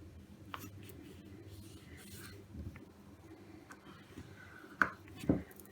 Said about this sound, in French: Je marque mon pli.